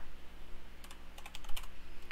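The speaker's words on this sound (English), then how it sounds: "I always start typing on the wrong one" Fingers type on a computer keyboard with quick, irregular clicking keystrokes that come in clusters over a steady electrical hum, close by, with no one speaking.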